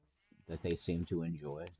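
Sheep bleating in the Minecraft video game, a few wavering, harmonic bleats in quick succession, fairly close and loud, with a voice talking over them.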